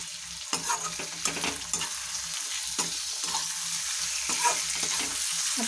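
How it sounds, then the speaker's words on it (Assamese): Chicken pieces frying in a pan over high heat, a steady close sizzle with occasional stirring clatters and scrapes, no voices. "জুইটো হাই কৰি এতিয়া অকণমান সময় ভাজি ল'ম"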